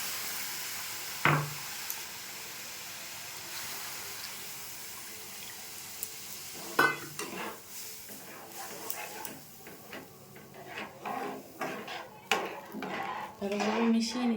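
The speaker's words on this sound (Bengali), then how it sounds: "এখন আমি জল দিয়ে দেবো।" Water being poured into semolina frying in a pan, with clinks of a pan and utensil and a brief hiss and splash, set among kitchen clatter and stirring noises at moderate level.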